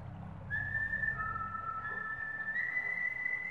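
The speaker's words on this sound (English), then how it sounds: "I hear whistling." A whistled melody in the video game World to the West, a few long sustained tones sounding alone over low ambient game background.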